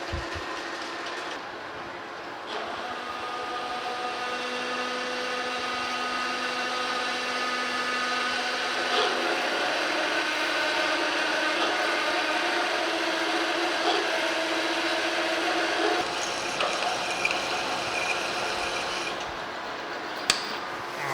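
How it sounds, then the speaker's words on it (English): A drill bores a 1 inch hole into a casting from a W. F. & John Barnes treadle lathe, giving a steady, droning machine whine with tonal overtones that runs continuously for around twenty seconds, with small knocks near the end. "I drilled a 1 inch hole"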